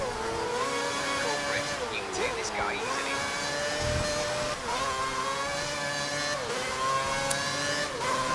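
Formula 1 car engines from an F1 racing game whine at high pitch, rising and dropping through gear changes as cars run close together, with brief bursts of revving over a steady background roar.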